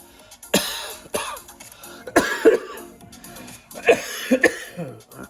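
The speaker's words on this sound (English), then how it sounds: "I can't cough the bloody thing out, it's making me cough." A person coughs several times in close succession, harsh throaty bursts with brief rasping pauses, loud and close.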